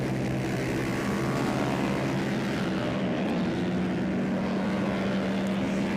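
Pro-stock 301-400cc racing motorcycles riding on a circuit, a sustained engine drone with a slowly shifting pitch, steady and moderately distant.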